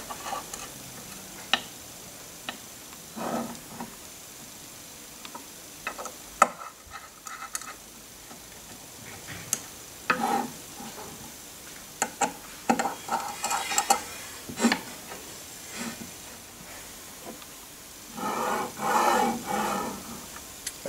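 Screws are tightened on a linear guide and lead screw actuator assembly, giving scattered sharp ticks and small ratcheting clicks, close and fairly quiet, with short bursts of rapid clicking between pauses.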